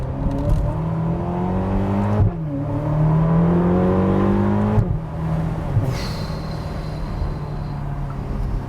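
A rare Ferrari sports car's engine revs loudly up and down in several rising sweeps, with sharp drops between pulls and a whirring tone, close and with no talk.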